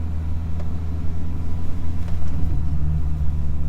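A 2005 Mini Cooper S R53 engine, warmed up, idling with a steady low rumble and slight fluctuations, close and fairly loud.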